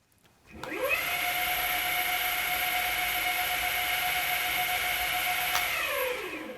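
Motors of an Exway Atlas Carbon 4WD electric skateboard riding in gear 2, a steady high-pitched whine that ramps up quickly, holds evenly for several seconds, then winds down, close with no talk.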